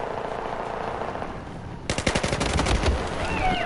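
An AK rifle fires in Battlefield 4. After a stretch of ambient game noise, a loud, rapid automatic burst of closely spaced shots begins.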